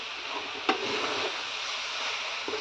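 Coconut mixture frying in a pan for coconut laddus (kobbari undalu), stirred with a soft scraping and a steady sizzle, with one sharp utensil knock near the start and a lighter tap near the end.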